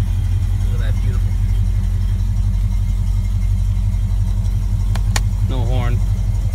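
1974 Ford Gran Torino engine idling just after a cold start, a low, steady rumble running throughout with a brief voice near the start and a person speaking over it toward the end.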